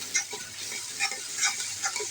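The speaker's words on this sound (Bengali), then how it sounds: "আদা রসুন বাটাকে আমি তেলের মধ্যে একটু ভেজে নিব।" Ginger-garlic paste frying in hot oil, a soft sizzle broken by light stirring scrapes in a loose rhythm, fairly faint and close with no voices.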